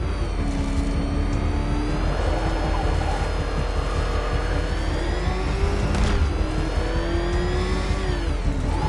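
Car engine in the video game Batman Arkham Knight, a loud continuous roar that revs and surges in pitch through a road chase, with rumbling noise underneath.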